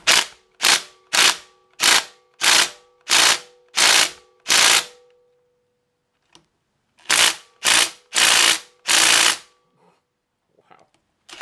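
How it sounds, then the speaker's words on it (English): Rapid bursts of a socket wrench ratcheting on stubborn bolts, seven quick loud runs in a steady rhythm, a pause, then three more close together, heard near and alone. "We might have to get the socket wrench out"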